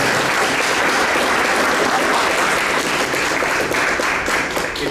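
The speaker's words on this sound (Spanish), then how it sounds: "Fuertes aplausos para Javier Prado y para el" Sustained, loud audience applause fills the room at an evening graphic novelists' gathering at Casa de la Literatura, a dense steady wash of clapping from many hands with no pause.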